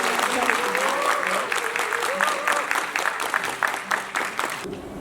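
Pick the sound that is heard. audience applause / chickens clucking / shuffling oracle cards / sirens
audience applause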